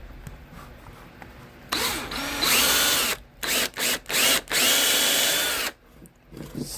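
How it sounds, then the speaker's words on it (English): A power drill whirs loudly in several short bursts, stopping and starting, with a longer run in between. "I'm gonna drill it right here."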